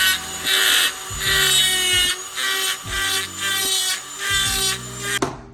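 Power drill boring holes through an S2000 intake, several loud bursts of grinding whine with brief pauses between them and a sharp clack near the end, no talking.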